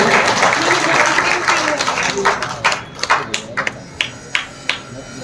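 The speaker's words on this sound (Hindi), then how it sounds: "ताली बजाएंगे हम तो आनंद के साथ" Audience clapping along at a Bhagavat katha religious gathering, starting as a dense wash of applause mixed with a voice, then thinning into a few separate, sharp claps.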